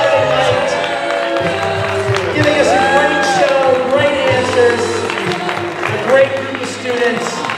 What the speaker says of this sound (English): Big round of applause for these guys coming out here on the Saturday night.